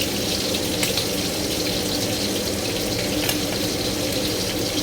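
Pork fries over low heat in a pan, a dense, even close sizzle that runs unbroken with occasional faint pops, no voices.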